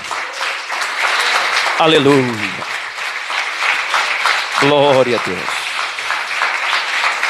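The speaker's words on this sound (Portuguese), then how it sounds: "Jesus merece uma salva de palmas. Bem forte." A church congregation claps loudly and steadily during a worship service, a full crowd applause that swells at moments while a voice calls out praise twice over it.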